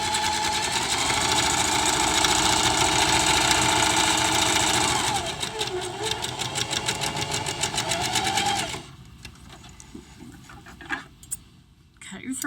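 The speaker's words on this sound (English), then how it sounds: "do your back stitching, sew all the way down" A sewing machine stitching a fabric seam, a loud steady mechanical whir that breaks into rapid rhythmic needle ticking, then stops, leaving quiet handling sounds.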